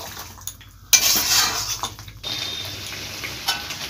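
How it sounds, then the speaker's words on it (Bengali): A chicken and potato curry with sugar is stirred in a pot, with sharp clinks and scrapes of a spoon against the metal over a faint sizzle, close up and without talking. "এবার চিনি দেব, এবার এটা ভালোভাবে মিশিয়ে নেব।"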